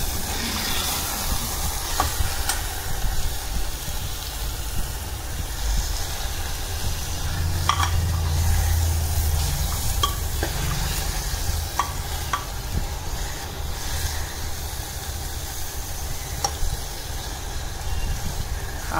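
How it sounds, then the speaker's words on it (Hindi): Potatoes with yogurt and chopped green coriander frying in a pan for a home-style potato curry, a steady, close sizzle with occasional stirring scrapes, no talking. "फ्राई आलू के साथ थोड़ा दही भी डाल के मैं और थोड़ा हरा धनिया काट के ये भून रहे हैं"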